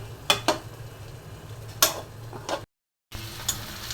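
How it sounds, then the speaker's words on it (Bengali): Yardlong beans and rooftop-garden eggplant going into a pan with potatoes that were browned first, giving a couple of quick clattering stirs and a soft sizzle, then a short silent gap and more light pan noise. "এখন বরবটি দিয়ে দিচ্ছি ছাদ বাগানের বেগুন।"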